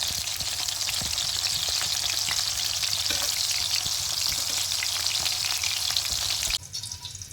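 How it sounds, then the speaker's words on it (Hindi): Raw minced chicken seekh kebabs fry steadily in a pan, a loud, dense, continuous sizzle throughout that drops suddenly to a quieter hiss near the end. "इस तरह उलट पुलट के हम 6 से 7 मिनट इनको फ्राई करेंगे।"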